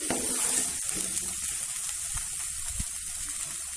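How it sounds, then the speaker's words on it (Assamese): Steady oily sizzling and crackling of a ground spice paste frying with potatoes in a hot pan, continuous and close, with a few soft stirring scrapes. "গ্ৰাইণ্ডিং কৰি লোৱা পেষ্টখিনি আলুৰ লগত দি এতিয়া 1 মিনিট সময় ভাজিম।"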